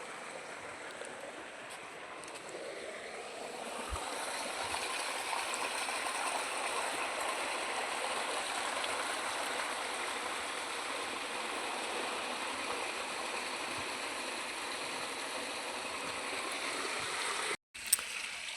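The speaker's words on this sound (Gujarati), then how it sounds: "પાણી ચાલુ કરી દીધું છે અને ટોકું ભરાઈ રહ્યું છે" Water pours steadily into a tank, a constant rushing flow that continues unbroken before a brief knock near the end.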